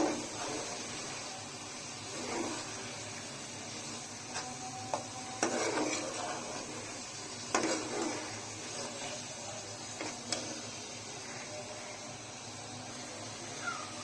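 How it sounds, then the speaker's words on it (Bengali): Spice paste with ginger paste and chopped tomato is sautéed in a pan, a soft, steady sizzle under occasional scraping and rasping strokes of a spatula, with a few sharper knocks against the pan. "এখন টমেটো কুচিটা নরম হওয়া পর্যন্ত আর একটু কষিয়ে নেব।"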